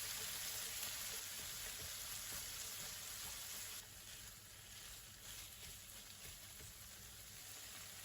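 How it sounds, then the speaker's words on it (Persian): Chicken and a spoonful of tomato paste sauté in a pan, giving a steady, fairly quiet frying sizzle that softens slightly partway through, with no voices. "بعد اینکه رنگ مرغ تغییر کرد، 1 قاشق غذاخوری رب اضافه کردم و تفت دادم"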